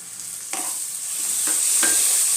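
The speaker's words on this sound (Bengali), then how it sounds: "আবার আমি টমেটোটার সাথে মশলাটা দু মিনিটের জন্য কষিয়ে নেব" Tomato paste and spices frying in a pan, with a loud bright hiss throughout and three distinct scraping stirs spaced about a second apart.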